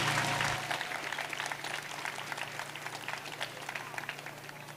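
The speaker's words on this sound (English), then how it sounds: "Can we get a round of applause for our eighth grade choir?" An audience at a school moving-up ceremony claps for an eighth grade choir, a steady, fairly soft wash of applause that tapers slightly over a few seconds.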